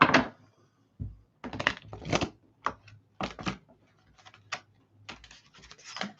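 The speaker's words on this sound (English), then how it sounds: "But let me shuffle here." Tarot cards are shuffled by hand in a series of short, crisp riffling bursts separated by brief pauses, close and fairly quiet, with no voices.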